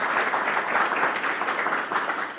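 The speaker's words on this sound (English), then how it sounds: "I think the 5 candidates have earned a round of applause for them being here tonight." Audience applause for five election candidates at a 2015 New Windsor community election forum, a dense, steady wash of many hands clapping that fills the whole stretch at moderate loudness with no talk over it.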